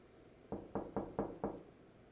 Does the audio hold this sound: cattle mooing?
no